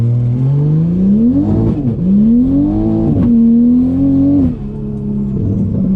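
A big-turbo 2020 Toyota Supra engine revs hard during a street pull, its pitch climbing and dipping through several surges, loud and close with no voices.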